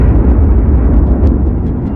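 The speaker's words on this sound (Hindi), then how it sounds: "बीच के इस भयंकर दबाव के कारण एक विशाल विस्फोट हुआ" A huge explosion sound effect, a loud, continuous low roar and rumble that fills the whole stretch without any voices.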